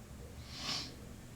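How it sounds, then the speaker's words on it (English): A single soft, close sniff of velvet, a brief airy inhale that swells and fades against a quiet background. "I'm sniffing the velvet"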